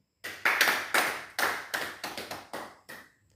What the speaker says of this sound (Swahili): Mpigie Mungu makofi.